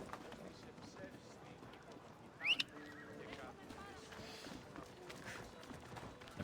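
In Assassin's Creed Odyssey, a horse gives a short whinny and hooves clop faintly beneath game sounds and background noise.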